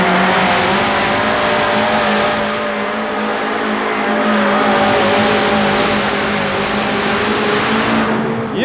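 The Georgia Rebel Ford 4WD pulling truck roars down the track at Tampa Stadium in 1991, a loud, sustained high-revving engine wail with wavering pitch and tire noise that stays intense for the whole pass.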